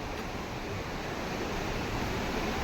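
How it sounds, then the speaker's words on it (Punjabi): Flowing water of the Shah canal near Pong dam at Talwara, running high, heard as a steady, dense rushing roar throughout with no break. "ਇਹ ਨਹਿਰ ਆ ਜੀ ਇੱਥੇ ਸ਼ਾਹ ਨਹਿਰ ਕਹਿੰਦੇ ਇਹਨੂੰ ਸ਼ਾਹ ਨਹਿਰ"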